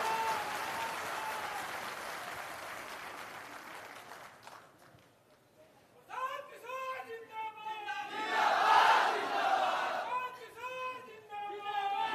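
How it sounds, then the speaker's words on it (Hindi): Audience applause in a Patna auditorium welcoming Prashant Kishor at a Jan Suraaj digital wing meeting, a crowd clapping and cheering that swells after a quieter pause, with voices mixed in. "तालियों की गड़गड़ाहट के साथ स्वागत कीजिए प्रशांत किशोर जी का"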